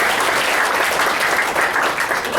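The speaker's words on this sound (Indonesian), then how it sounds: "Boleh tepuk tangan buat istri saya." An audience bursts into dense, steady applause lasting a few seconds, many hands clapping together at close range with no talk over it.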